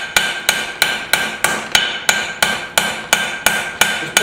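A hammer strikes hot scrap steel in a steady rhythm of about thirteen sharp, ringing blows, forging short, steep bevels into a knife blade up close.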